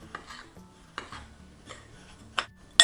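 Dry semolina, sugar, flour and baking powder are stirred in a bowl, giving soft scraping sweeps broken up by about four light clinks of a utensil against the side.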